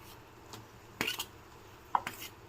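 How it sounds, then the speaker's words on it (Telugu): Cooled rice tipped into a pan of fried carrots for carrot rice, giving a few soft clattering scrapes and a sharp metallic tap at close range, quiet overall with no talking. "ఇందులోకి మనం ఆరబెట్టుకున్న రైస్ వేసుకుందాము"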